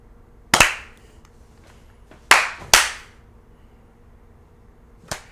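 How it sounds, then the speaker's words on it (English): Sharp, loud hand claps for syncing, a single clap, then two close together, then a fainter final clap, each with a short room echo. "I want to do one of them old clap syncs"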